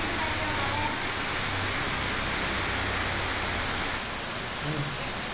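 Dense, constant hiss of heavy rain pouring down, loud and unbroken throughout.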